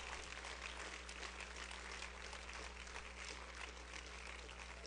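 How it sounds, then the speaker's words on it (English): A church congregation clapping their hands in praise, dense continuous applause-like clatter over a low steady hum, fairly faint and distant. "everybody, just one more time, clap your hands and give him praise"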